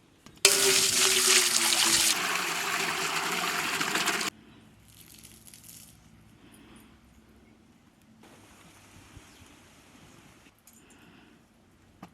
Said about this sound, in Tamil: பிரியாணிக்கு சாப்பாடு வேக வைக்க தண்ணி ஊற்றிக்கலாம்